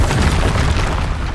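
Bombarda, an explosive spell in Hogwarts Legacy, detonates as a loud, close boom with a heavy low-end blast that sustains briefly through the whole moment.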